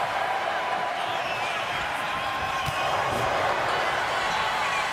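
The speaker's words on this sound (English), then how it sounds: "You can hear the crowd cheering on Dr. Venus" A wrestling crowd cheering at an independent women's pro wrestling show, a steady wash of roaring voices heard from inside the arena, with occasional thuds and a commentator talking over it.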